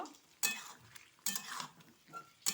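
A pointed gourd and drumstick curry is stirred in a pan, giving three short scraping bursts of a spoon against metal with quiet gaps between them.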